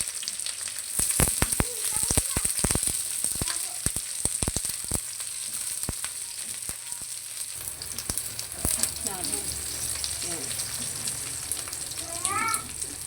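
Onion, chili and carrots sizzling in hot oil in a pan, a steady bright frying hiss with scattered crackles and stirring clatter, near and continuous, with faint kitchen movement.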